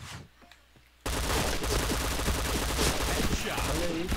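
Gunfire in the Point Blank shooting video game bursts in after a quiet second, dense rapid shots and rattling automatic fire filling the rest of the clip loudly.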